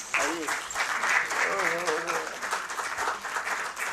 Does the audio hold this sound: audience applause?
yes